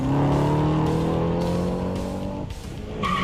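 A Hennessey Camaro accelerates hard on a race track, its engine note rising loud and steady through the gears with a brief drop near the end before climbing again.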